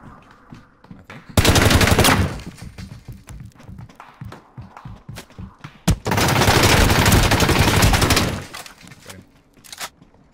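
Gunfire in the battle royale game Ring of Elysium: two long, loud automatic bursts of rapid shots, the first around two seconds and the second nearly three, separated by scattered single cracks and movement, with quieter shots at the end.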